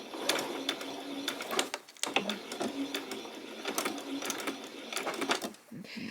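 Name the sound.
sewing machine stitching fabric for a peasant top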